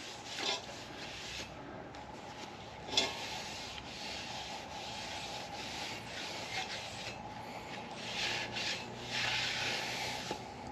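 A cloth wipes down a Mercedes CL55 AMG alloy wheel with wax and grease remover, giving soft, close rubbing strokes in uneven bursts, with no talk.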